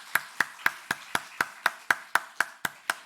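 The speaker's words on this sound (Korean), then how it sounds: "다시 한번 하나님께 감사와 영광의 박수를 드립니다." Congregation clapping in church during a Thanksgiving Sunday service, sharp claps in a steady unison beat, about four per second, a dozen in a row with no talking.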